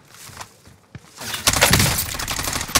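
Gunfire in Call of Duty Warzone Rebirth, a battle royale game: quiet ambience, then from the middle a dense, loud burst of rapid shots and crackling impacts runs to the end, with a sharp crack near the close.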